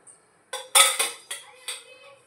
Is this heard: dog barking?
no